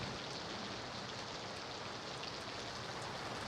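Rain falls in a dense, even hiss with no breaks, a steady wash of drops that stays faint and constant with no voices.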